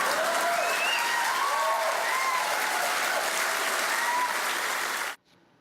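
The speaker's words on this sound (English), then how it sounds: "the crowd is cheering and laughing at Donald Trump" Crowd at a Hillary Clinton speech about Donald Trump breaking into loud, sustained applause mixed with cheers and whoops, steady for about five seconds before it cuts off abruptly.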